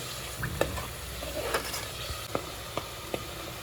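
Onion and tomato paste frying in oil for a chicken masala: a steady sizzle under repeated light scrapes and taps of a stirring spoon.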